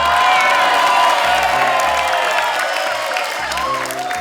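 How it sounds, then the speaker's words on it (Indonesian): Studio audience cheering, whooping and clapping at a comedy debate show staged as a neighborhood RT chief election, a loud, dense crowd roar holding steady throughout with a low hum of music beneath. "Boleh tepuk tangan"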